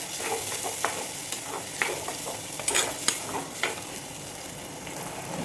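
Ground tomato sautés in a pan for fish curry, a low steady sizzle broken by several sharp scraping strokes of a spoon stirring against the pan.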